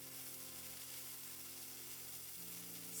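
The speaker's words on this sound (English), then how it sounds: "add the cherry tomatoes and cook for 5 to 6 minutes or more" Cherry tomatoes frying with minced lamb in a pan, a steady, faint sizzle that holds evenly throughout with no talking.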